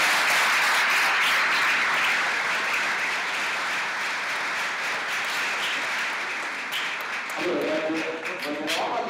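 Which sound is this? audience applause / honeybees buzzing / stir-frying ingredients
audience applause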